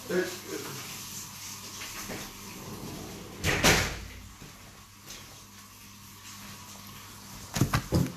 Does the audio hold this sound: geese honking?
no